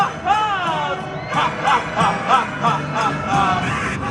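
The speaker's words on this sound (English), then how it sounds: "Give a round of applause." A crowd at an Alton Towers theme park stage show cheers and whoops in rising bursts, with excited shouting voices and some clapping underneath.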